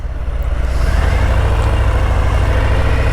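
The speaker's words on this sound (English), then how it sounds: "this engine makes this very like rumbling sound that I love, especially 2500 RPM" A Harley-Davidson FXDR 114 motorcycle engine holds a loud, steady low rumble for a few seconds, close and continuous with no breaks, with nothing else audible.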